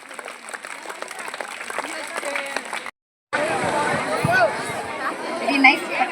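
Audience applause at a children's karate performance, a scattered patter of claps with crowd chatter that breaks off briefly, then returns denser and louder.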